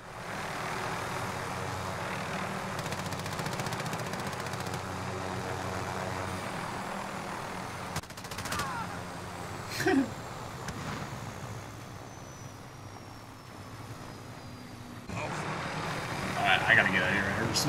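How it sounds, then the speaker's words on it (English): A helicopter in the Warzone video game gives a steady engine and rotor drone, with a few sharper in-game bursts and effects over it and a rising swell near the end. "Oh my gosh, I want to take the helicopter."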